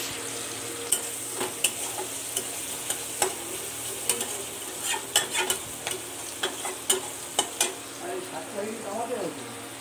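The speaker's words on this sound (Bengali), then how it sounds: "এটা এখন ভাজবো।" Washed greens fry in a pan with garlic, chili and onion, under a soft steady sizzle broken by frequent sharp spatula clicks and scrapes in an uneven rhythm, close by.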